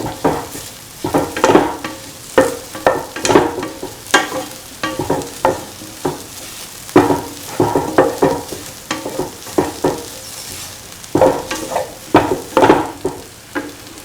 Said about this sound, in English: Keep on scrambling, saute, scrambled eggs.